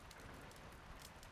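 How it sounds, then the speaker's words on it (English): Heavier rain falls steadily in the video game Diluvian Winds as a storm approaches, a soft, even hiss of drops with no pauses, faint and continuous, with no voices. "Heavier rain. Storm's approaching."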